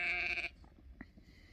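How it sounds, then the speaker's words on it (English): A sheep bleats loudly and close by in a single sustained call, followed by quieter rustling and faint scattered farmyard noise. "take the rest of the sheep with you"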